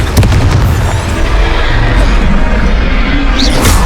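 A Confringo fire spell bursts in the Hogwarts Legacy video game, giving a loud, dense rumbling explosion that fills the whole moment, with game sound effects layered over it.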